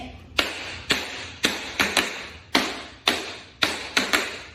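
Tap dancing on a hard floor plays four pullbacks in a row, a run of sharp metallic clicks in quick pairs and singles with a steady rhythm, close and clear, with nobody talking.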